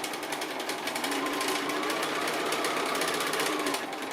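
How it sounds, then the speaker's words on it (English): Sewing machine stitching a quilt block, a continuous fast mechanical whirring and clatter, close and steady throughout. "And then I'm going to do this second line of stitching here."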